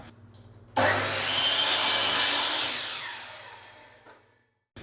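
A saw cuts through a wooden board in one continuous stroke of harsh rasping, starting abruptly, loud and close, then tapering off before stopping.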